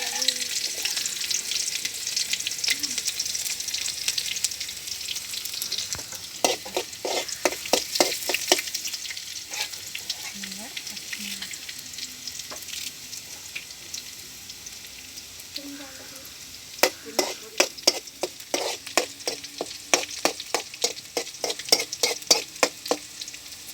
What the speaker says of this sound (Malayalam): കടുക് പൊട്ടിച്ച് കഴിഞ്ഞിട്ട് നമുക്ക് ഉള്ളി ഇടാം.